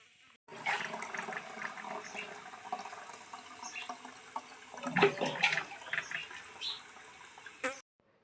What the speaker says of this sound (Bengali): তো চলো জল আমি একটু ভরে নিই এখন।